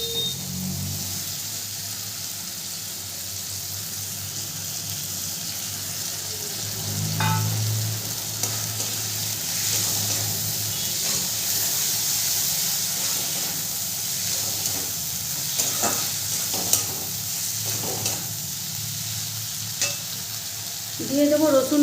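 Tomato and soybean masala stir-fried in a pan, with a steady hiss of frying and intermittent scraping clinks of a spatula, moderately close and without speech.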